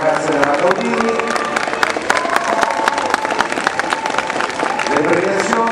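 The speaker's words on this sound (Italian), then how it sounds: "Bell'applauso alle ragazze della Gaudini." Spectators at a sports trophy award ceremony applaud the Gaudini team from Rome, dense clapping mixed with crowd murmur and a voice over a sustained musical tone in the background.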